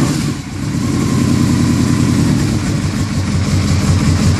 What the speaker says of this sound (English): The bike starts.